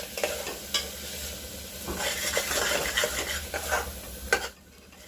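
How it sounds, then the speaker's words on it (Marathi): Masala spices roasting in a pan over a low gas flame for a mutton recipe, with steady stirring scrapes and a soft sizzle throughout, a few louder scrapes, then a brief quiet moment near the end. "हा सर्व मसाला भाजताना गॅसची फ्लेम मंद आचेवरती ठेवायची आहे"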